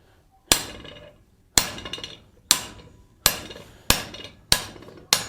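Hot metal hammered on an anvil to draw out a tenon for a gothic door knocker: seven sharp, ringing blows spaced about a second apart, each decaying quickly, close and loud with no talk.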